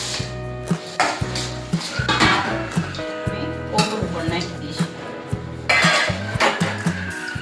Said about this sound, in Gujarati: ચાલો તો એની અંદર હવે આપણે દાણા નાખીશું